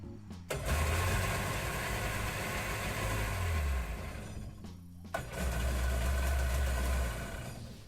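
A Sea-Doo Challenger 1800 boat engine runs on a hose at steady speed, a loud, close mechanical drone with a deep low rumble; it briefly cuts out near the middle before picking back up.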